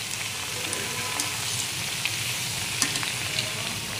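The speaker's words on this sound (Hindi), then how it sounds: "एकदम गैस की फ्लेम को स्लो कर देना है और हल्के ब्राउन हो जाए तब तक हम इसे फ्राई करेंगे।" Chakli deep-frying in hot oil over a low flame, a dense continuous bubbling sizzle with tiny crackles and pops throughout, close and steady with no voices.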